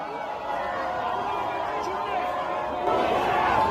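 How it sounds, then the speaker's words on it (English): A large crowd at a protest in Iran, calling and shouting together as a continuous roar of many voices that swells louder near the end. "people calling, shouting at people who walk on Israel and United States flag"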